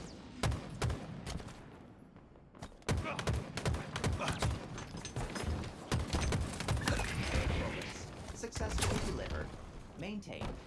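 Rapid bursts of Halo video game gunfire crackle through a competitive match, repeated volleys mixed with reload clicks and in-game announcer lines, while players talk over the action.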